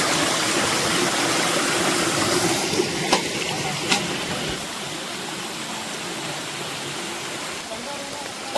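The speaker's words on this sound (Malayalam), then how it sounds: "അപ്പോൾ ഇവിടെ ഒരു ചെറിയൊരു അരുവിയുണ്ട്." A small stream runs through wooded, steep hill country in Palakkad, giving a steady close rush of flowing water throughout, with a couple of brief knocks early on and a faint voice at times.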